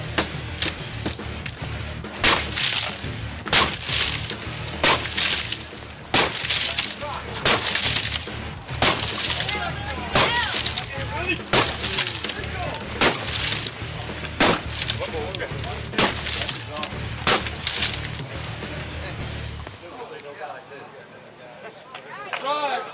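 Repeated sharp smashing impacts as a hotel window is broken fully open, roughly a dozen blows at irregular intervals, loud and close, with voices talking underneath throughout.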